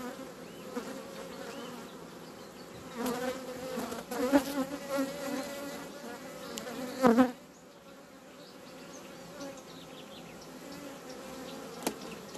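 Honeybees buzz steadily around an open hive during queen rearing, a dense continuous hum with a few louder swells as bees pass close, no talking.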